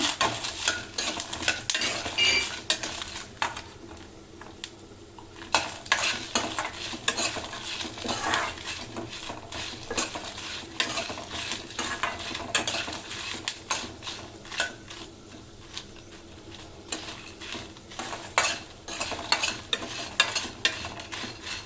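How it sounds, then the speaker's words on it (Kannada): Dried red chillies, alongside cumin, fry in a pan for a chicken curry spice powder, with a soft sizzle under frequent clinks and scrapes of a spoon stirring against the pan, close and continuous. "ಇದು ಚೆನ್ನಾಗಿ ಫ್ರೈ ಆಗಬೇಕಿದು ಮೆಣಸಿನ್ಕಾಯಿ ಎಲ್ಲ"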